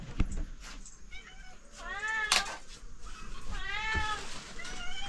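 A house cat meows several times indoors, drawn-out wavering cries close by, with faint household clatter and a brief voice between calls.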